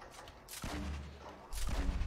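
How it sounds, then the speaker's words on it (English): Video game gunfire in Fortnite, two bursts of distant shots exchanged between players, each a rumbling crackle rising then fading over a steady background. "They're shooting at each other."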